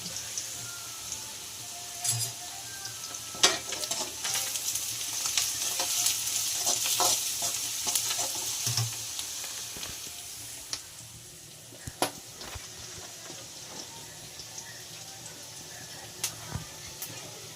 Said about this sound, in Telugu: ఇగో నేనైతే చికెన్ వండుతున్నాను